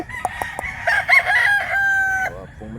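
A single rooster crows close by in a rural setting in Mantalungon, Barili, Cebu: one loud, drawn-out call lasting about two seconds, preceded by short clucks.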